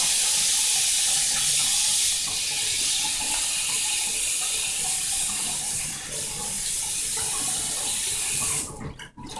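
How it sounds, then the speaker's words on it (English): Cold water runs steadily from a sink tap during a shave, a loud continuous rushing hiss filling the scene before cutting off abruptly near the end, with no talking. "We're going to apply cold water now to close the pores."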